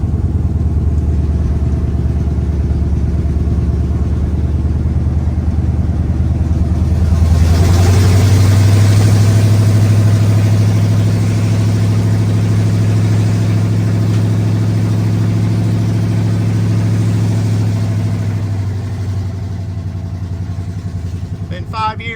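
A rebuilt car, back on the road after more than five years, rumbles loudly on a road test run; the engine swells into a rev near the middle, then eases to a lower drone.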